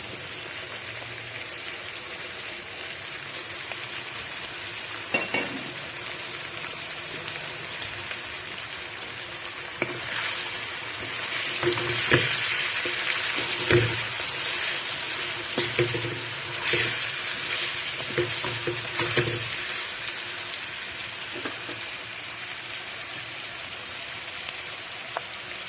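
Spices and garlic frying in a pot for Sindhi biryani, a continuous close sizzle with scraping stirring strokes and louder bursts of crackle through the middle.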